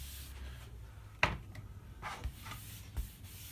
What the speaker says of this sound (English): just rub it in the direction of the grain